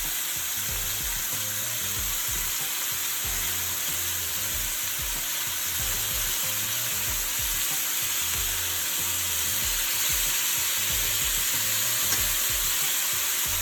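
Brown stew chicken pieces fry and sizzle steadily in a hot pan, a loud, continuous crackling hiss that holds without pause for the whole stretch, with no voices over it.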